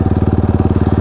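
A motorcycle engine idles in desert heat with a cooling fan kit fitted, giving a loud, close, steady pulsing throb that repeats evenly throughout.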